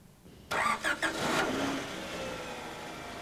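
A Rover 600 car engine cranks in a few quick bursts, then catches and settles into a steady idle; no voices, fairly close.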